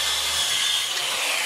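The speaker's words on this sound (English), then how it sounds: "I also used a circular saw for the straight cuts" A circular saw makes a straight cut through wood for a folding workbench, giving a loud, close, continuous rasping whine that holds steady through the short stretch.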